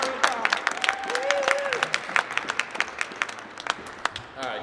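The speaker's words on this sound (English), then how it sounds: "Give him a round of applause." An audience at a Black History Month Jeopardy competition breaks into lively, uneven clapping that is loud at first and thins gradually, while a voice speaks briefly over the start.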